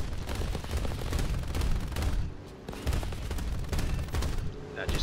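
Machine gun fire from a P-39Q-25 aircraft in the War Thunder video game, dense continuous rattling bursts with a brief pause midway, loud and close, with game engine noise underneath.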